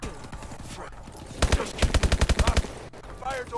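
Rapid automatic gunfire rattles out in a tight burst of about a dozen evenly spaced shots in the Call of Duty: Advanced Warfare campaign, set among game voices and ambient noise before and after.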